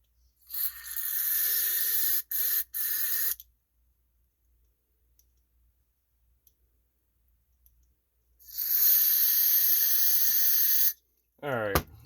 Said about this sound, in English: I'm going to go spraying through these holes again here.